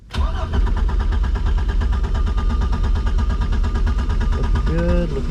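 A Mercruiser boat engine running steadily at close range, a loud continuous rumbling idle that starts abruptly at the beginning and holds throughout, with a voice briefly over it near the end.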